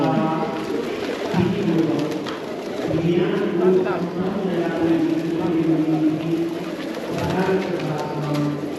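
Pigeons coo repeatedly nearby in Kathmandu, Nepal, low throaty calls rolling over one another against faint outdoor background noise.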